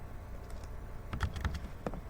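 A few quick taps on a computer keyboard during coding work, close and fairly soft, clustered in a short burst over a low background hum.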